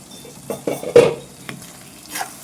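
Chicken frying for biryani in a pot, with a few sharp scrapes and clinks of a spoon stirring against the metal over a low sizzle.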